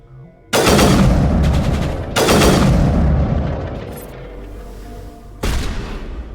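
Weapon fire in Mass Effect 1 Legendary: three loud bursts of booming, rattling gunfire, the first two long and sustained with decaying tails, the third a short burst near the end.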